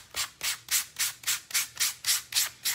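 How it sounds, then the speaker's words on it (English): Wood is hand-sanded with sandpaper to give a craft piece a worn look, nine even back-and-forth rubbing strokes in a steady, close rhythm with no talk. "But we're just gonna sand this up a little, okay?"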